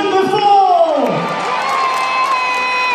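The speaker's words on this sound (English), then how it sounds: "We've got to give them a nice big cheer." A game show audience cheers and shouts for the contestants in a loud, sustained burst of whoops and high-pitched yelling that gradually settles into a steady roar.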